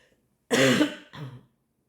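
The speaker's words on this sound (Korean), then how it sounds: "선생님 자꾸 기침이 나가지고" A single close, forceful cough followed by a shorter second one, with silence around them.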